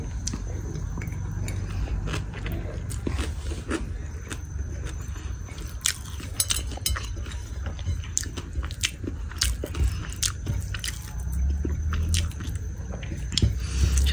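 Someone eats fried shrimp with rice, with close, wet chewing and soft crunching bites repeating steadily throughout and no talking.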